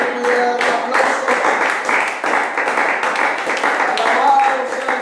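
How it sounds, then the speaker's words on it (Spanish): Applause from a church congregation praising the Lord rolls on steadily and fairly loud, with voices and shouts mixed through the clapping. "Denle un aplauso al Señor"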